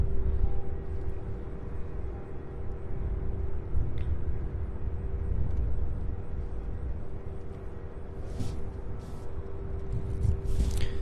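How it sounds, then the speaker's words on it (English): A UPS MD-11 cargo jet on final approach to runway 17 right at Louisville International Airport, a steady distant engine rumble with a constant whine, and a few brief rustles near the end. "So the MD-11 out of Portland, Oregon. Let's see, UPS flight 2973 coming in, lining up on final approach."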